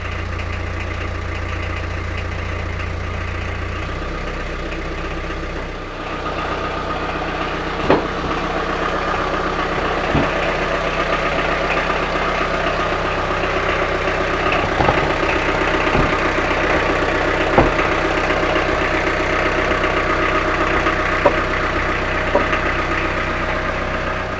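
A loud, steady engine idles close by with a constant rumbling drone and occasional faint clicks. The sound stays unchanged the whole time.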